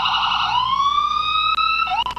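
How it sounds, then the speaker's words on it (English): Emergency vehicle sirens wail loudly and close by during a Memorial Day parade, a strong rising and sustained tone with a brief blip and a second pitch shift near the end. "they won't admit it, but I know they have fun hitting those sirens like that"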